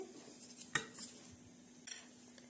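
Spoon stirring julienne pie filling of seasoned meat in a bowl, with a sharp clink and a scrape against the dish, then a second softer clatter, close and fairly quiet.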